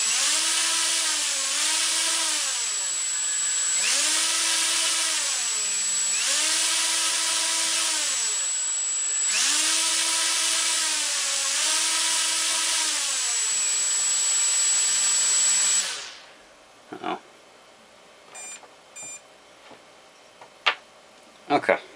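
A tiny electric copter motor spinning a small propeller whines loudly in repeated rev-up and slow-down cycles for about sixteen seconds, then cuts off, leaving only faint clicks and handling noises.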